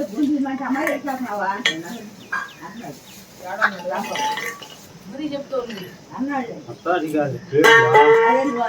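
Metal vessels and pots handled in a village kitchen, with intermittent clinks and clatters mixed under almost constant close conversation between people, while a chicken clucks nearby.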